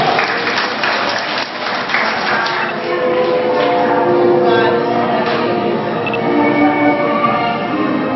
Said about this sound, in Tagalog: Sa malakas po palakpak